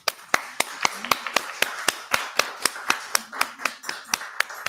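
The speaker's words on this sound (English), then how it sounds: "let's clap it up for Joslyn" A few people clap for Joslyn at a mom-focused pitch event, sharp distinct claps in a fairly regular rhythm, close and sparse rather than a full crowd, with faint talk beneath.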